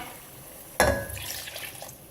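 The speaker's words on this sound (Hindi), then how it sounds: "2 गिलास पानी डाल रही हूँ" Water poured into a cooking pot of beef masala after tomatoes have been fried in: a sudden splash followed by a steady, moderately close pouring gush that tapers off.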